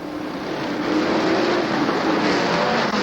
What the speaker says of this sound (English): The field coming down the front chute, following the 26 of Mike Ordway.